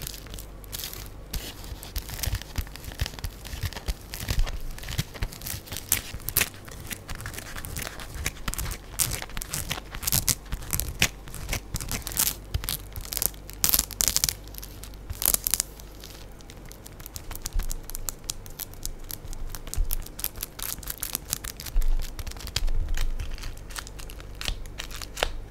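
Plastic wrap from a large deli-style spool is handled and crinkled up close, giving dense, irregular crackling and rustling bursts that carry on without pause, with no voices.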